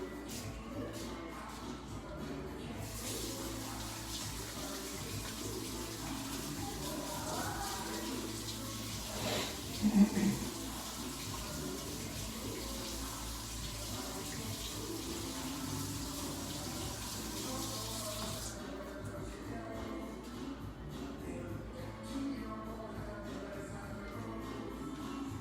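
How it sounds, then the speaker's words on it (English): Running tap water splashes steadily as hands are washed under a kitchen faucet while cooking machaca, a close, continuous hiss lasting about fifteen seconds with a brief knock midway, then quieter room sound. "I'm gonna wash my hands really quick"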